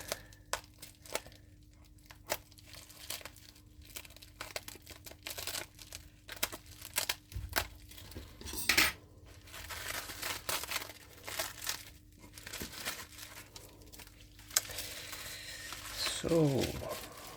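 Packaging around a pre-assembled board is unwrapped close up, with irregular crinkling, crackling and tearing bursts of plastic wrap spread across the clip, busiest in the middle and late stretches.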